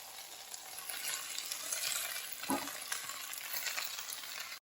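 Washed fenugreek leaves sizzling and being stirred in a hot pan, a steady close hiss and crackle with a brief scrape from the spatula near the middle, moderately loud, with no talking.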